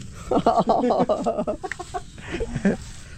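Several chickens cluck in quick, choppy bursts close by, with a short pause and a few more clucks after.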